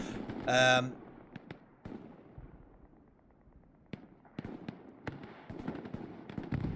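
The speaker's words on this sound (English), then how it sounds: "Oh, and another rocket coming in from Cruz on the right." Rocket explosions in the tactical shooter Hell Let Loose, a loud burst near the start followed by scattered distant booms and crackling battlefield impacts, with a commentator talking over them.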